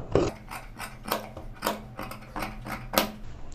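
Scissors snip loose threads on pinafore uniform fabric in a tailoring shop, about eight short crisp cuts in an irregular rhythm, close and clear with no voices.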